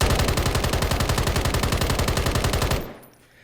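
A BAS-B rifle in Call of Duty: Warzone fires one long full-auto burst of loud, rapid, evenly spaced shots, then stops abruptly and leaves a fading echo.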